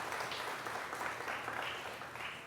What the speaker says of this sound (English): let's give another rounding applause for the Kiwanis Club of the Azalea City